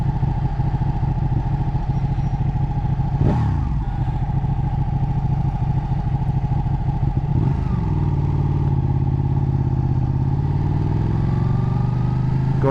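A Ducati 1299 motorcycle engine idles loudly up close, then revs sharply twice, with the first throttle blip climbing and falling quickly and the second easing back down to a steady rumble.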